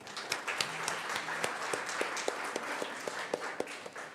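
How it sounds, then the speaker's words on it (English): Faint, distant audience applause at an insurance conference in a hall, a soft steady patter of clapping with a few sharper individual claps. "Please join me in giving warm round of applause for a true meaningful session."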